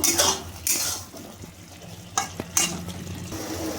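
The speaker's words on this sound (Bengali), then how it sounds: "এবার আমি ভালোভাবে নাড়িয়ে নেবো আর একটু আলুটাকে সেদ্ধ করে নেব" Potatoes with garam masala being stirred in a pot for a vegetarian biryani, utensil scraping and clanking in several strokes over a steady frying sizzle, close by with no talking.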